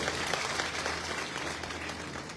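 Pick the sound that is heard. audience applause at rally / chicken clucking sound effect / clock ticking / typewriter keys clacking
audience applause at rally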